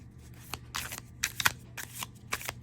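A gilded tarot deck being shuffled by hand, with several crisp riffling bursts of cards, close and fairly loud, and no voices.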